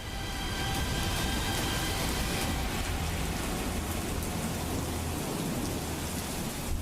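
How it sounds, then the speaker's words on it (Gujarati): Heavy rain pours steadily over Dwarka, a dense unbroken hiss of drops hitting surfaces that stays loud and constant throughout. "ચોવીસ કલાકથી સતત વરસાદ ચાલુ જ છે"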